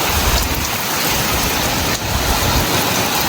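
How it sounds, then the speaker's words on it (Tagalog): Heavy typhoon rain pounds down in a loud, dense, continuous roar of drops striking surfaces close by, with gusty low rumbling underneath. "Grabe yung patak oh."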